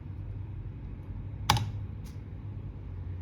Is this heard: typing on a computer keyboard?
yes